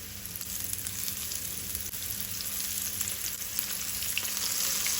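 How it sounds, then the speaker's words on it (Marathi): Small sardines for a Goan fish fry sizzle in hot oil over a medium gas flame, a dense, steady crackle up close that grows slightly louder toward the end, with no speech. "तेल तापलें तशें आमी ताल्ले घालून घेवया।"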